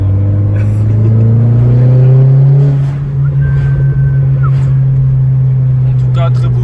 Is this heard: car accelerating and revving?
yes